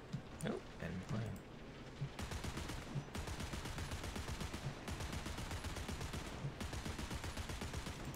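A rooftop machine gun fires in a tank video game, sustained rapid bursts with brief gaps. A voice talks briefly at the start, before the gunfire sets in.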